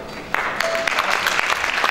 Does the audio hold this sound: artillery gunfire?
no